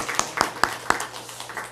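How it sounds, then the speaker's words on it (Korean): During a live-streamed church service, a few crisp claps ring out in a steady rhythm of four, fairly close and moderately loud, as applause for a deaconess and for God, then trail off into quiet. "우리 권사님께는 감사의 박수, 또 우리 하나님께는 영광의 박수 올려드리겠습니다"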